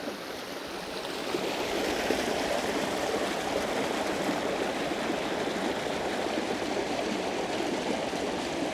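A small, crystal-clear stream flows steadily near a secret waterfall, a dense, broadband rush of water that starts quieter and swells within the first second to a constant close wash, with no voices.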